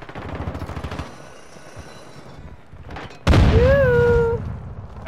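Rapid video-game gunfire, a dense burst of shots loud and close, breaking off before a sharp heavy blast with a rising whine, heard over continuous game background noise.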